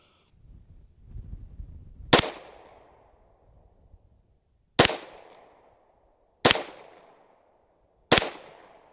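Four sharp, loud gunshots from a Staccato HD P4 pistol, fired singly with uneven pauses of about two seconds, each crack followed by a short decaying echo.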